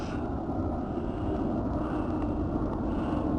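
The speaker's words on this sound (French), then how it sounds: "un avion qui passe." Steady, broad rumble of an airplane passing overhead, a continuous low roar at moderate distance with no other sounds.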